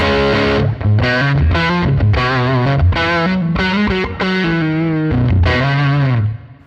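Distorted electric guitar through an Axe-FX III 4x10 Bassman amp preset, playing a sequence of sustained chords and notes, with a touch of reverb tail after each phrase.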